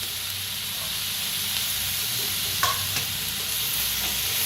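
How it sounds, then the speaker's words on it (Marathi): Garlic, ginger, green chillies and cashews roasting in a pan, giving a continuous close sizzle and hiss with a couple of brief stirring scrapes midway. "सगळं भाजून घेऊया चांगलं असं"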